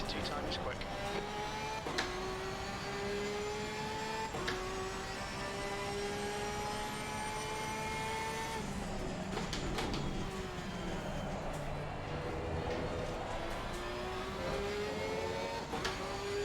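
Engine of a Porsche 992 GT3 R race car in Assetto Corsa Competizione at Valencia, a steady loud high-revving drone that climbs through gears with brief shift dips, with a voice talking over it.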